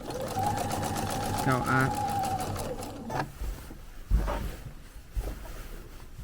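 A sewing machine runs steadily as it stitches a quilt, pausing briefly mid-seam before resuming in short bursts, with someone speaking over the mechanical whir close by.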